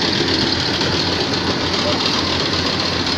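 A rice harvesting machine's engine runs close by in a loud, steady, unbroken mechanical drone that holds level from start to finish.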